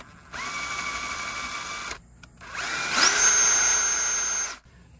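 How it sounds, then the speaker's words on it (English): A power drill works a hole for an RV bumper mount, with two close, steady whining bursts separated by a short pause, the second rising in pitch and louder. "I got that one drilled and tapped"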